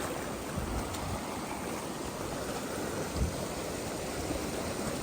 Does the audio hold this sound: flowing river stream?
yes